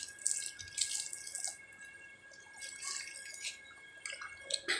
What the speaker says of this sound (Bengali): আমার গাছকেও আমি সন্ধ্যেবেলা স্নান করাচ্ছি